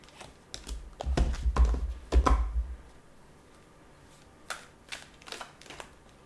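Tarot cards are shuffled in a few quick bursts of riffling and flicking, close and fairly quiet, with short pauses between the clusters.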